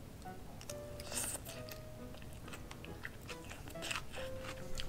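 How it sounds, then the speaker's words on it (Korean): Someone chews and eats chicken gangjeong over rice, a quiet close-up series of soft bites and crunchy mastication with no talking. "한번 이렇게 같이 먹어볼게요."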